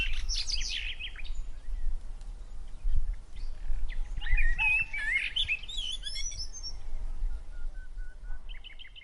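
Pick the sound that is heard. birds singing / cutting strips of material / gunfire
birds singing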